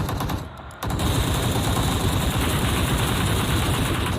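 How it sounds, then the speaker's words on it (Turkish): Rapid automatic gunfire in the mobile battle-royale game PUBG Mobile: a dense, loud, continuous stream of shots that briefly thins, then resumes and holds steady to the end. "Şuradan sıkan var şuradan."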